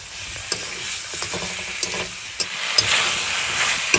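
Pork fries with turmeric in a pan, giving a continuous close sizzle with a few sharp clicks and pops spaced through it, and no talking.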